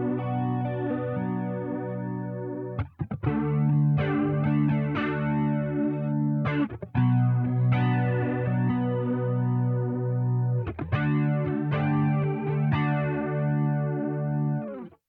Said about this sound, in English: I've also got a flanger.